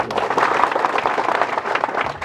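An audience at a World Tribal Day gathering in Damjipura, Madhya Pradesh, breaks into loud, dense clapping that fills the whole short stretch with a brief voice.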